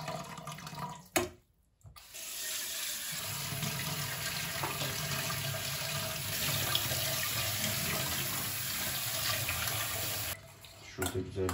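Rice being washed under a running kitchen tap, a steady loud rush of water after a brief stop near the start, with voices talking at times.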